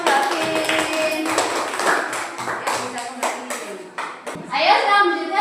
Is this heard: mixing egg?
no